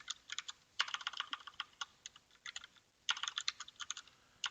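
Clicky typing on a computer keyboard comes in quick uneven bursts with short pauses, fairly close and clear with no talking over it.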